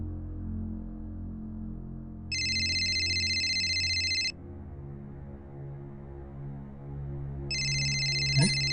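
An electronic phone ringtone chirps in two separate bursts, a couple of seconds apart, over a low humming background bed, fairly close and clear.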